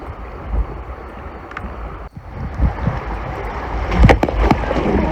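A kayak runs a set of creek rapids, with broadband water rush, splashes and paddle knocks building toward the end, steady and close, with wind buffeting the microphone.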